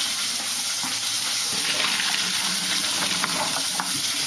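Boiled water draining from a pot of asparagus, a steady, close, loud rush of pouring water with splashing and faint sizzle-like hiss throughout, no talking.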